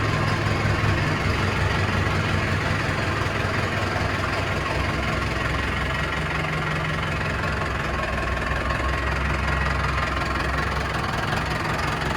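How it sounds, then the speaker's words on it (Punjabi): A tractor engine idles after a cold start, having stood since the day before, a loud, steady low rumble with a rough knocking throb that runs evenly throughout, with no talking. "ਹੁਣ ਇਹ ਕੋਲਡ ਸਟਾਰਟ ਹੀ ਕਰਿਆ ਕੱਲ ਦਾ ਖੜਾਇਆ ਹੋਇਆ"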